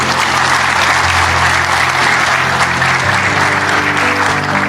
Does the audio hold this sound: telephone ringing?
no